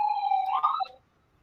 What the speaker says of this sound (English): Hold on while this ambulance go by.